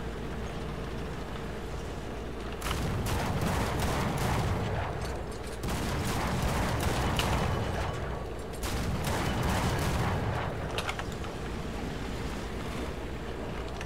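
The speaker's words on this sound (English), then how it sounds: "I hate this AA gun so freaking much." An anti-aircraft gun firing in War Thunder on a Soviet desert map: several long bursts of rapid, rattling shots over a steady wind-like rumble, with short pauses between volleys.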